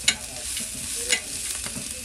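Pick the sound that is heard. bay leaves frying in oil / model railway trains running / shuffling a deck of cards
bay leaves frying in oil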